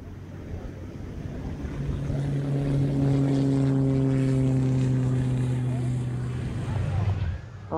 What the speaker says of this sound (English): First of the two Hellenic Air Force official demo teams of the show was Daedalus with the T-6 Texan II.